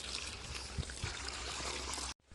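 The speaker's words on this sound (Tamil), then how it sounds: "இப்போ நம்ம தண்ணி ஊற்றிக்கலாம்." Water pours steadily into a pot with a soft rushing splash, close by, then stops abruptly.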